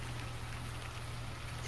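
Rain ambience used as a sound effect in a tabletop role-playing game session, a steady, even hiss of falling rain with a low rumble beneath it and no talking.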